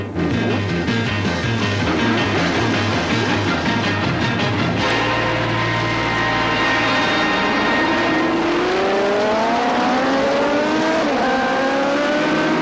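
Superbike motorcycles, including Honda racers, roar off together at a 1979 race start, a loud continuous pack of engines whose pitch rises as they accelerate and climb through the gears.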